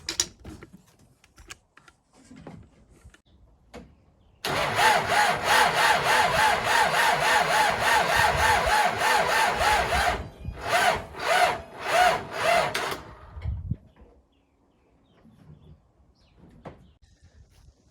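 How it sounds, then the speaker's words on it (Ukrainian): A hard-starting MTZ tractor engine cranks with help from a jump-start booster: a loud, harsh rasping churn runs for about eight seconds, then breaks into several uneven pulsing bursts before it stops, with quiet clicks and rustles around it. "Ну і трактор сам по собі зле заводиться."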